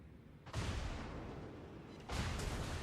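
Warship main guns fire broadside salvos in the naval video game World of Warships, with the battleship New York: two heavy, roaring booms, one about half a second in and a second near two seconds, each with a long rumbling tail.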